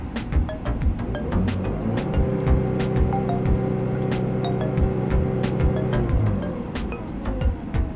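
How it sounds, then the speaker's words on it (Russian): Audi Q5 (8R) engine with about 170,000 km on it runs steadily during a test check, a continuous low hum with faint clicks on top and no talk over it. "Еще раз проверим работу двигателя."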